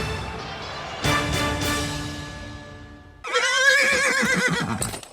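A wild stallion neighs loudly in a radio commercial during an NFL playoff broadcast, a long ringing whinny followed by a second harsher, trembling neigh, with no talk over it.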